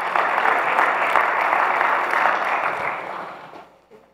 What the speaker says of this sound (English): give the Lord a hand clap for this